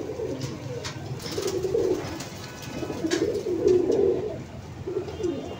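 Pigeons coo in soft, throaty, repeated rolling calls at close range, with faint background clicks and no speech.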